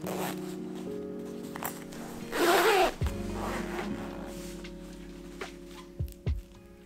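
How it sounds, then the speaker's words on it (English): A zipper fitted onto sewn camper fabric panels gives a loud rasping zip midway, then a few soft clicks and rustles of handling the fabric, all over a steady low background hum. "I'm fitting the zippers back on, making sure the fabric stays aligned"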